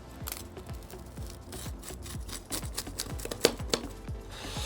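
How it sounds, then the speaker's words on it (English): A knife or cutter crunches through crisp pizza crust, cooked in a Big Green Egg, in a quick series of short, scraping cuts, close by, with no talking. "and we're going to slice it now."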